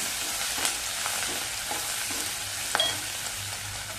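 Garlic and grated ginger sizzling in a pan on low heat for dal tadka, a soft continuous fry with occasional scraping stirs and one small clink of a spoon.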